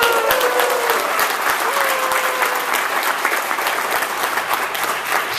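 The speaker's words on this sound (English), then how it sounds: "Big round of applause!" A crowd at a Dragon*Con 2014 author session applauds steadily, with dense, continuous clapping filling the room throughout.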